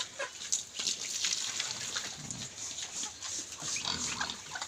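Native pigs on a provincial farm grunt in low, rough bursts, fairly close, over a steady background of rustling and farmyard noise.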